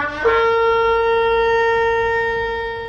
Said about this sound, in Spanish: Tequía. Es un sonido como de trompeta